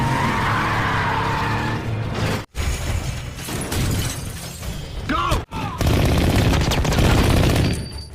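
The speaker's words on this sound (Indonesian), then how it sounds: "Saat Dean merasa berhasil kabur, mobilnya dihantam keras oleh mobil Arthur yang muncul tiba-tiba." A car skids and is hit hard in a film chase scene, with loud screeching, dense crashing and impact noise carrying on under dramatic sound effects.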